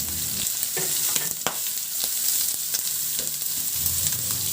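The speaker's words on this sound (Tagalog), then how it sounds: "At igisa ko na rin yung bawang at luya." Garlic and ginger sauté in hot oil in a pan for a Filipino miswa soup, a steady bright sizzle broken by a few sharp scrapes and clinks of a spatula stirring, close and without talk.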